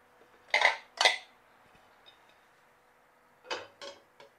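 Metal lid set onto a hot cooking pan of pandesal on the stovetop, with two quick clanks, a pause, then a few softer clinks and taps, close and clear in a quiet kitchen.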